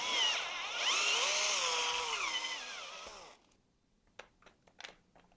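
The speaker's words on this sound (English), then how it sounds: "So I've got a drill bit just slightly bigger than an M3 screw, and I'll go through and enlarge a couple of those holes." A power drill with a bit slightly larger than an M3 screw whirs loudly for about three seconds while enlarging holes in 3D printed parts, its pitch wavering, then stops, followed by a few light plastic clicks and taps.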